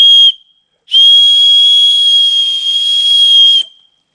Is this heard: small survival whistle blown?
yes